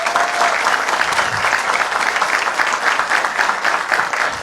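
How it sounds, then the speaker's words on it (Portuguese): An audience claps steadily at a business talk, a dense, continuous sustained applause throughout with no talking over it. "Uma salva de palmas para o Makoto."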